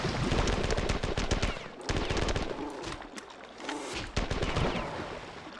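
Bursts of rapid enemy gunfire in the video game Marathon 2 come as several loud clustered volleys with short pauses between them. A voice speaks faintly beneath the shots.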